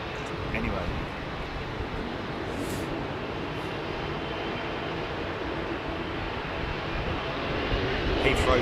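An Airbus Beluga XL jet departs Heathrow Airport, heard as a broad, steady engine roar that holds through the whole stretch and swells slightly near the end, with voices faintly present beneath it.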